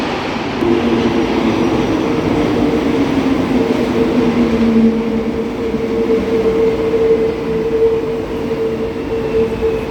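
Loud, continuous rumble inside a moving train, with steady wheel noise and a sustained tonal whine gliding through the ride.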